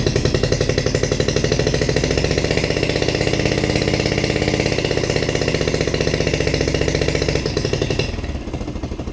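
A Honda 2.3 outboard motor idles with a steady, fast, buzzing engine pulse held close and loud, then the note thins and drops away near the end as it is shut off.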